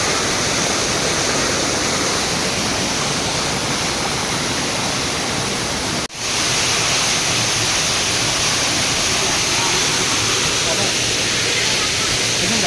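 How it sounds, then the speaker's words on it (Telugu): Rampa waterfall at Rampachodavaram pours with a loud, steady broadband rush of forceful water, continuous and close throughout with only a momentary dip midway. "వాటర్ సౌండ్ చూడండి ఎంత ఫోర్స్ గా వస్తుంది"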